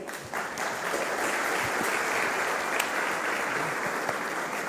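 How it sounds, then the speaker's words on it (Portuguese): Audience applause as a man named João is called up onto the stage at a live talk, a dense, loud, sustained wash of clapping from a large crowd that holds steady throughout. "uma salva de palmas para o João"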